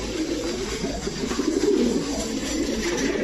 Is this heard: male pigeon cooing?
yes